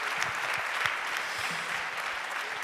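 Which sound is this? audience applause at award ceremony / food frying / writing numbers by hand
audience applause at award ceremony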